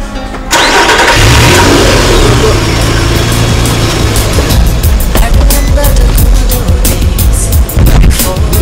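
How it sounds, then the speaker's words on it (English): A car engine cranks and catches after a short pause, then settles into a loud, steady running rumble with rising revs, while people talk in the background. "Start the car!"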